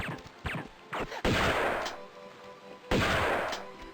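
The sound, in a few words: shotgun fired in the video game Tomb Raider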